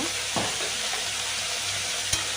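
Small mourala fish frying in a pan give off a steady, close sizzle with a few faint clinks, and no one speaks.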